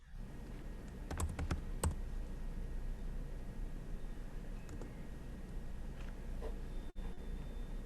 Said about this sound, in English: Someone is a fast typist.